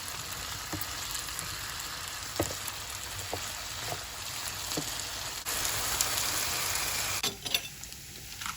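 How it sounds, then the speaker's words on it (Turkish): Steady sizzling of potatoes frying in hot oil, with occasional soft clicks and pops, fairly quiet and continuous. "Patatesler kızarırken"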